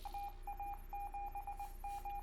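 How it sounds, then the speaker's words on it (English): Morse code beeping, a steady pure tone keyed in quick short and long pulses at an even rhythm, fairly faint over a low hum with no talk. "Oh, Morse code."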